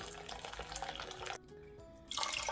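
Water pours over beans to soak them in a kitchen, a close, steady splashing stream that briefly thins to a trickle before gushing again.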